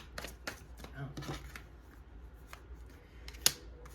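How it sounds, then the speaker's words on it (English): A quick, soft riffle of tarot cards being shuffled by hand, a few short papery flutters and taps close by, with a sharper snap near the end and speech around it. "Oops, that was a terrible shuffle."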